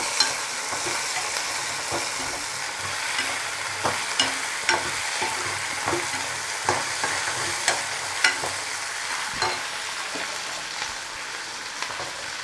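Small shallots sauté in a pan for Tamil pulicharu with a steady sizzle. A spoon scrapes and taps against the pan at a regular rhythm, and nobody speaks.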